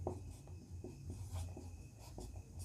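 A teacher writing on a classroom board during a maths lesson: a series of short scratchy strokes, several bursts in quick irregular rhythm, close and fairly quiet, with no talking.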